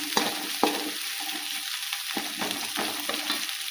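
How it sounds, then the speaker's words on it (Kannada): Oil bubbling in a pan while North Karnataka jhunka vada is cooked: a constant bright sizzle with a few sharp spatula scrapes and taps, close and clear, with no talk. "ಚೆಂದ ಕುದಿಯುತ್ತೆ ಎಣ್ಣೆ"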